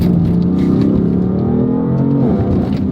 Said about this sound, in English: within 3 hours of driving it, I'm completely comfortable throwing this thing sideways.